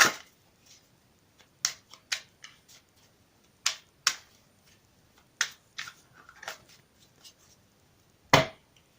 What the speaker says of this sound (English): I've already shuffled the cards, but I will shuffle them again for you on camera.